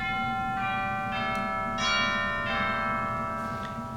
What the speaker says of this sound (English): And you can express the chimes.